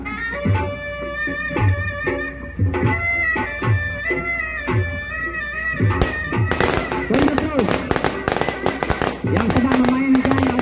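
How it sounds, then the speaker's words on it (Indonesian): Firecrackers go off at a golok parade in Cakung: rapid, loud crackling bursts erupt midway and keep popping close by, while voices and tonal music sound throughout. "Itu petasan digigit sama dia."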